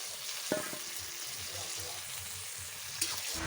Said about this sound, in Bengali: সিলভার কাপ ভেজে নিচ্ছি